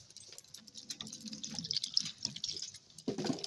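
Water splashes and drips as a ripe palm fruit is rinsed by hand over a sink, faint irregular trickles and splashes close to the microphone, with a louder splash near the end.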